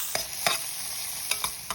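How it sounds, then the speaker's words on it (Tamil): Finely chopped onion sautéing in hot oil with cumin in a kadai, a soft continuous sizzle broken by four or five quick scraping stirs of a spoon against the pan, close and without voices. "பொடிப்பொடியாக நறுக்கிற வெங்காயத்தை போட்டு வதக்கிங்கோ"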